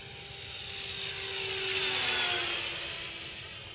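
An RC Sky Trainer model airplane makes a fast flyby, its engine buzz swelling as it nears and then fading away over a few seconds at a modest distance.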